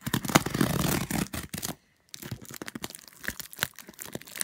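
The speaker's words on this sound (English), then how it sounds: "I have scissors to open this, so let's try to open it" Scissors snip and tear through tape on a large package, giving dense crinkling, crunching and cutting noises, close and fairly loud, with a brief silent pause midway before more rustling and snips.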